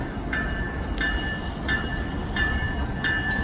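An electric mainline train passes through a station without stopping, a steady loud rumble with rhythmic clicking of wheels over rail joints repeating about every two-thirds of a second, close by.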